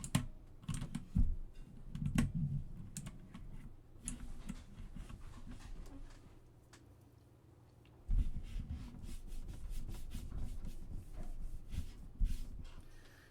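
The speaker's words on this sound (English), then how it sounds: "Things I never thought I'd be trying to clean off my keyboard." Egg being cleaned off a computer keyboard: close, soft clicking and tapping of keys with rubbing in bursts, a quieter stretch in the middle, no talking.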